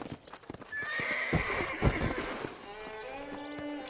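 A horse in Red Dead Redemption trots with clattering hooves, then gives a clear whinny, heard fairly close at moderate volume over a quiet game backdrop.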